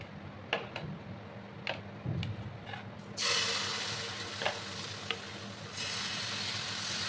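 Breakfast batter hits a hot oiled pan over a low gas flame and settles into a steady sizzle, after a few clicks and clanks of utensils against the stovetop.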